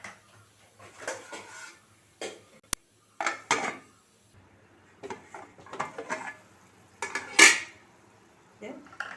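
Metal clatter of a cooking pot for fish curry being handled and covered with its lid: a few separate clanks and scrapes, one sharp ring, spread over quiet gaps, close and fairly soft.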